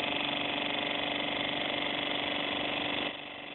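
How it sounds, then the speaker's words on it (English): A small electric motor slowing as capacitors charge hums steadily with a constant whine for about three seconds, then its level drops slightly near the end; close and moderately loud, no talk. "I'm going to, again, fill up the capacitors to slow the motor down."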